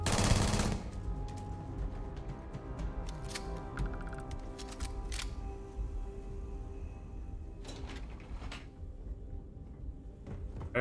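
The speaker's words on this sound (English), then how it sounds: "This little SMG is a workhorse for these lower level missions." Rapid SMG gunfire in Starfield during a lower-level mission against enemies, with bursts of close, loud shots rattling over a busy game soundscape and brief pauses between volleys.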